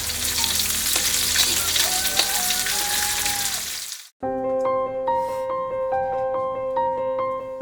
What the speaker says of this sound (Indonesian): Semua sayuran yang dipetik dari kebun dipotong-potong lalu ditumis dengan bumbu seadanya